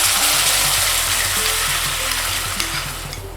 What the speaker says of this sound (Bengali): তেলটা একটু গরম হলে তৈরি করে রাখা টমেটোর পেস্টটা দিয়ে দিচ্ছি।